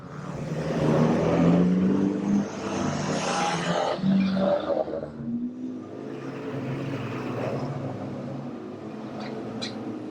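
Stock car race engines roaring past on a circuit track, a loud continuous rush of several cars that swells and fades as they pass, with a brief lull before the next pack approaches.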